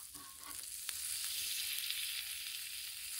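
Tri tip steak sears on a flat-top griddle with a continuous close sizzle that swells slightly over the few seconds, plus a couple of faint clicks near the start and no speech.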